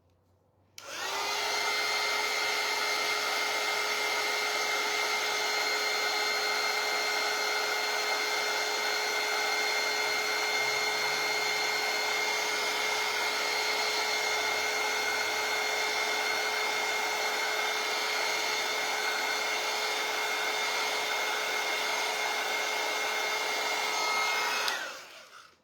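A hair dryer blows steadily on thick green paint coating a wooden scoop, a loud continuous whine and rush that holds for about twenty-four seconds and then cuts off, with no talking.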